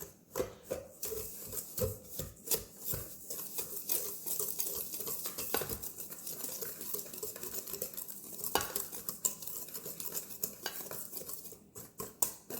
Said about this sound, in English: let's whisk together our dry ingredients